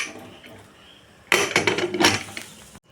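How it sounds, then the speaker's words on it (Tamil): A pressure cooker lid goes on while cooking spinach sambar, giving a clattering metallic clunk and rattle of a few seconds, close and fairly loud, after a quiet lead-in. "குக்கர் மூடியை போட்டுற வேண்டியதாங்க."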